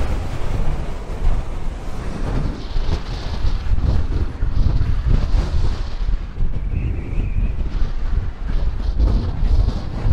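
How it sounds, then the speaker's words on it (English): Strong gusting wind buffets the microphone at derelict graving docks on the Liverpool waterfront, a loud, rumbling roar that swells and eases in waves across the whole stretch, with no talking. "it is windy"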